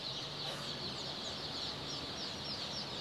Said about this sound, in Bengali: এই গুডাউনে কিন্তু আমরা সোনালি মুরগির বাচ্চা রাখি।